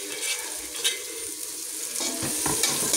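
Tomato frying in a pan with egg, a loud close sizzle with stirring scrapes and clatter from the pan.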